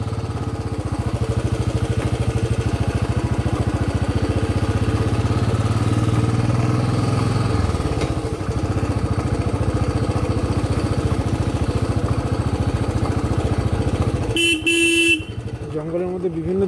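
A Royal Enfield Bullet motorcycle rides along a forest road, its engine a loud, steady, close thump that shifts slightly in pitch midway, with a brief sharper burst near the end.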